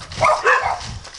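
Dog barking twice in quick succession at moderate distance, two short rough yaps over a low background rumble.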